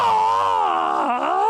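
A voice imitates someone screaming in pain, letting out a loud, sustained, wavering howl that dips and strains near the end, lasting under two seconds.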